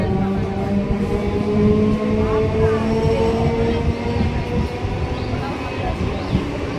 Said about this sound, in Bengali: হাবড়া যাওয়ার গাড়ি 2 নম্বর প্ল্যাটফর্মে আসছে।